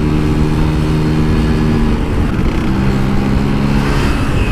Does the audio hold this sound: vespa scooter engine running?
yes